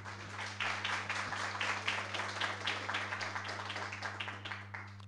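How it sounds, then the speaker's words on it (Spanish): An audience at an academic lecture applauds to welcome a professor: steady, dense clapping from many hands lasting several seconds, fairly faint and distant over a low electrical hum. "Recibimos entonces con este aplauso al profesor Nicolás Panoto."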